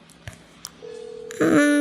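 A few short electronic phone tones beep, then a steady telephone ringing tone starts up, close and clear.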